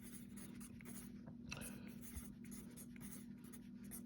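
Pen or pencil writing out an AP Calculus BC free-response solution, a faint continuous scratching with small strokes over a steady low hum, no voices.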